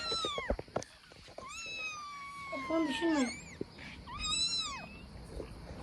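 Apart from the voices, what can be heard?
kittens meowing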